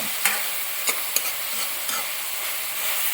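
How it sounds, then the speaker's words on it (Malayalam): Onions sautéing in a pan for a Kerala-style chicken stew, with a steady close sizzle and a few light scrapes of a spoon as they are stirred. "നന്നായിട്ടൊന്ന് ഇളക്കി കൊടുക്കുക"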